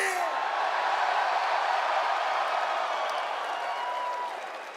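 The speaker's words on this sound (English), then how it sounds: "The crowd is a little bit louder here." Wrestling crowd at a Slammiversary event applauding and roaring in a large arena, a dense, steady wash of clapping and cheering that fades slightly toward the end, with no voices standing out.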